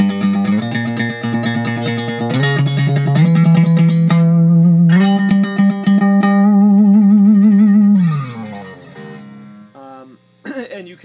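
Electric guitar run through effects plays a diminished scale, steady stepped sustained notes ringing loud and close for about eight seconds before fading, then a few softer scattered notes.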